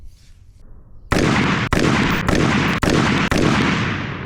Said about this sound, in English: gonna shoot 3 groups, 5 rounds each, with no muzzle device at all, just the bare threads